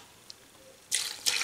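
Water from cooked mussels is poured through a fine mesh strainer, coming as two short splashing gushes after a near-silent start with a single small drip.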